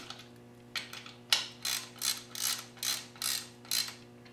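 A Craftsman lathe carriage stop being tightened down, heard as a series of about eight rhythmic ratcheting clicks and grinding bursts, close and fairly quiet, over a steady low hum with no talk.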